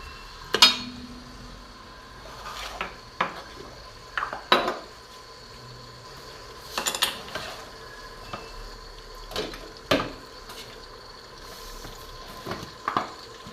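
Pots and a clay tagine clink and knock in a home kitchen as cookware is set out, with sharp separate clatters spaced irregularly and quiet pauses between them.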